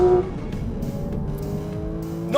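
Porsche Cayman GT4 RS with a 4-litre flat-six that revs to 9,000 rpm, driven hard on a race track. It gives a loud, sustained engine howl with shifting pitch and a rising rev near the end, and no talk over it.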